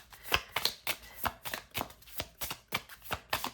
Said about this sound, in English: I'm gonna grab one of these oracle cards.